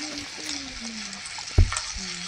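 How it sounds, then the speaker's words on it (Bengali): Pumpkin and carrot sizzle in a pan as they are stirred, a steady close frying hiss with a sharp knock of the utensil partway through and a few faint voiced sounds beneath. "তো আমি এগুলাকে নাড়াচাড়া করতেছি।"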